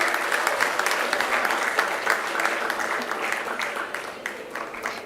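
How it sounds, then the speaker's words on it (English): An audience at a convocation ceremony claps in sustained, dense applause that gradually tapers off, with faint voices underneath. "Can we have a huge round of applause, please?"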